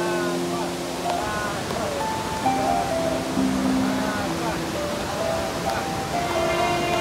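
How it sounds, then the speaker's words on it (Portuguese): Water rushes steadily at the Cachoeira dos Pretos waterfall in Joanópolis, São Paulo, a constant broad roar that stays even throughout while a person talks over it. "Olha a cachoeira mais linda."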